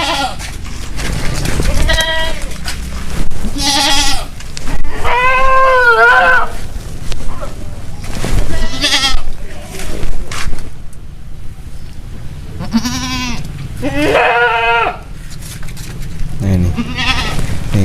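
Jumbo crossbred goats on a farm bleat loudly and repeatedly, with overlapping wavering calls from several animals close by over a constant windy outdoor background.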